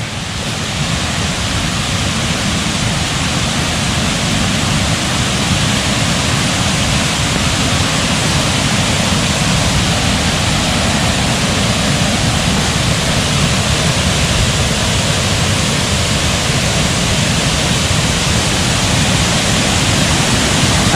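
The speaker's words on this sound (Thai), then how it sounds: "นี่ครับ ด้านบนของน้ำตกยุงทอง" The Yung Thong waterfall in Na Yung-Nam Som National Park, Udon Thani, rushes in a dense, steady roar heard from its top, loud and unbroken throughout with no voices.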